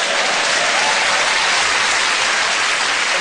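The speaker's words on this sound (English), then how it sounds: "The audience were cheering you" A television studio audience applauding and cheering, a dense, loud, unbroken wash of clapping that holds steady for a few seconds.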